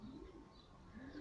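Homing pigeons coo softly in a low, repeated murmur, faint and steady with a few brief higher chirps mixed in, and no voices.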